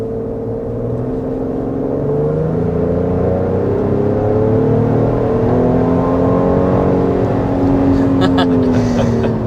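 A steady engine drone from a 400 hp 2025 Ford Explorer Platinum SUV builds and revs smoothly under continuous road noise, with a voice faintly audible over the hum.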